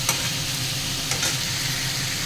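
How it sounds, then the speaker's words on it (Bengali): Red amaranth leaves fry in a pan with chopped garlic, onion and dried chilli, a steady close sizzle with occasional scrapes of stirring and no voices. "আর একটু আমি এটাকে ফ্রাই করলে হয়ে যাবে।"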